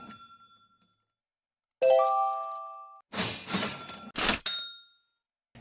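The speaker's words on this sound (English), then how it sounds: "selecting the custom notification sound you would like your phone to make each time you receive the notification" A phone plays through several custom notification tones in turn, from bright chimes and dings to jingly bursts, each short and clear with gaps between, and no voices.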